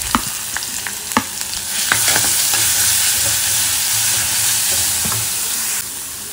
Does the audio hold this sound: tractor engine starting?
no